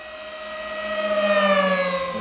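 A radio-controlled Avios Albatross HU-16 twin-engine flying boat makes a full-speed pass, its whining engine tones rising and then dropping as it flies by, loud and steady with no talk.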